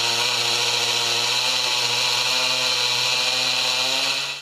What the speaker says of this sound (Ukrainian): Зранку в Олександрівському районі гудять бензопили, тут прибирають аварійні дерева.